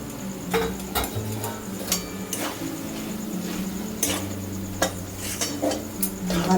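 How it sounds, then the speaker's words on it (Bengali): Potatoes and grated coconut stirred and scraped in a hot pan for a Bengali aloo dum, with repeated utensil knocks and scrapes over a low steady sizzle, close and alone. "ভালো করে কষিয়ে নেব।"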